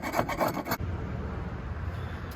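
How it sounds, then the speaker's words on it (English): A carbide scraper grinds across a badly damaged engine gasket surface on a Shelby Dodge Daytona, giving a few quick rasping strokes and then a steady low scraping rub, close and continuous. "Got me some of these carbide scrapers. They just work fantastic for gasket services."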